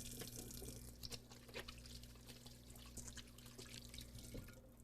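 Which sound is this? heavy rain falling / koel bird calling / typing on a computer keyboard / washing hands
washing hands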